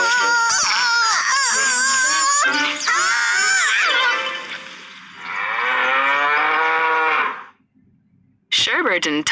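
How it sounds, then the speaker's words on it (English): A cow mooing, with several long, loud, drawn-out calls that waver in pitch, a pause, then another moo starting at the end. "Cow."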